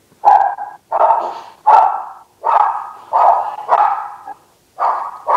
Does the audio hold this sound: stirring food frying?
no